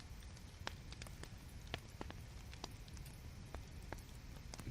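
A quiet background fire crackles with scattered sharp pops and snaps over a low, soft rumble, all faint and steady.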